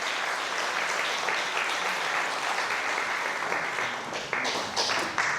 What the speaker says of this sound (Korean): 여러분 따뜻한 박수 한번 보내주시면 고맙겠습니다